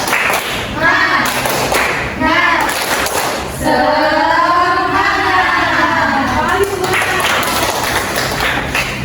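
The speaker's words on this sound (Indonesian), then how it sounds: "kita tepuk semangat dulu supaya kita lebih bersemangat lagi" A group of fifth-grade children in a classroom claps in a steady rhythmic spirit-clap pattern while chanting together loudly, the claps and voices alternating in short bursts.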